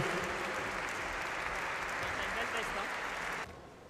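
A room full of people applauding a team from Paris, dense and continuous clapping at a strong, even level that cuts off abruptly near the end.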